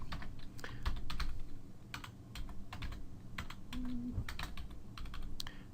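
Someone types on a computer keyboard with bursts of quick, crisp key clicks and short pauses between them, close by and alone.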